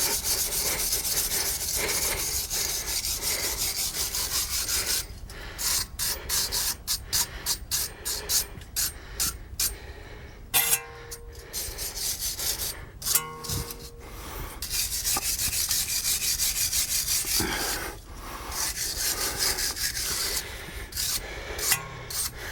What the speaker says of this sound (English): just get a wire brush, get any bits of rust and corrosion off.